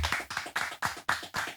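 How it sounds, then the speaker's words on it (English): A round of clapping in quick, uneven bursts, fairly faint and brief, with no voices over it. "Let's give a round of applause for Pat"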